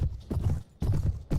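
Horse hooves galloping in the Mount & Blade Floris game: quick, rhythmic clip-clop thuds in two close bursts with a brief lull between, loud and near.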